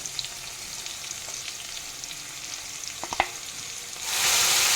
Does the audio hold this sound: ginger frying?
yes